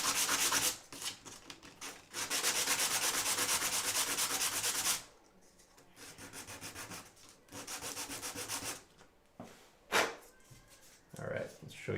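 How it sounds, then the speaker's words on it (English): A sanding stick or sandpaper rubs along the edge of a scale model in bursts of steady, close, gritty scraping, broken by short pauses and a few knocks. "Sanding stick, or as I said, sand it with your paper."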